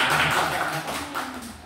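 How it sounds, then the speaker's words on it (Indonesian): Scattered group applause in a training-session hall: brief, close claps patter unevenly while voices murmur underneath. "Tepuk tangan untuk kita semuanya."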